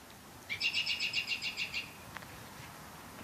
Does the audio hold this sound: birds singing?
yes